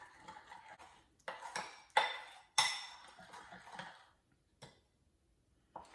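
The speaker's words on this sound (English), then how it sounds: "I'm going to start stirring in the brown sugar into the butter until it's all nice and moistened." A spoon clinks and scrapes against a bowl while brown sugar is stirred into butter for banana bread, giving a series of close, bright knocks and clatters separated by short pauses, with no talking.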